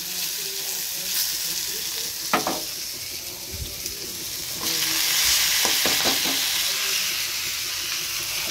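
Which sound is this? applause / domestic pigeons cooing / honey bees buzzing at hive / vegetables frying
vegetables frying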